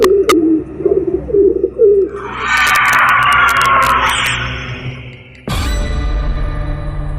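A pigeon coos softly a few times, then a louder whooshing rush swells and fades before a low rumble takes over.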